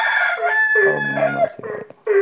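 Nearby, a rooster lets out a loud, strained crow that rises and trails off, followed by a few short clucking notes.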